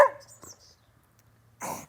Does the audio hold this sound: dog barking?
yes